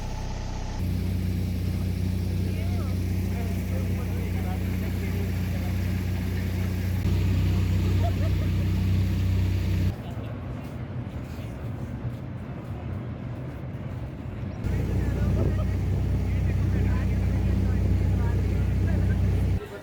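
A steady motorboat engine drones throughout on a river at the Varanasi ghats, low and rumbling, with water and wind noise around it and people talking now and then.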